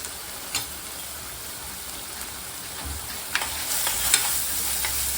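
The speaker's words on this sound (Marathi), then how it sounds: "सर्व मसाला छान असा आपण त्याला चांगला परतून घ्यायचा तेल सुटेपर्यंत" Misal spice masala, with coriander powder and goda masala, sautés in hot oil in a pan, giving a steady crackling sizzle with a few louder scrapes and clinks of stirring, growing busier toward the end.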